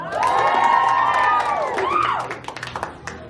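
A youth crowd at a Samoan end-of-year party in Canberra bursts into loud cheering, whooping and shouting for a best-dress vote, swelling at once and then tapering into scattered yells and claps.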